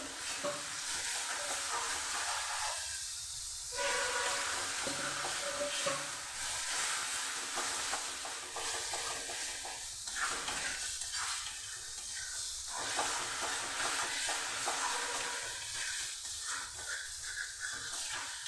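Spice paste for chicken kosha fries in a pan over a medium flame with a splash of water, giving a continuous close hiss and sizzle with intermittent stirring scrapes. No one speaks.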